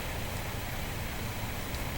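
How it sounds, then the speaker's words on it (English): Steady rain falls outdoors around a wet raft, a continuous soft hiss with low rumbling patter throughout, no voices. "it's raining outside"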